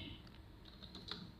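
Typing on a computer keyboard, a short burst of quiet, quick key clicks, faint and close with no talking.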